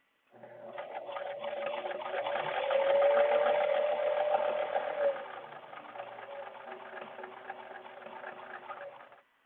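A sewing machine stitches a reusable cloth mask in one continuous close run of rapid needle chatter and motor hum, swelling slightly mid-run before stopping abruptly.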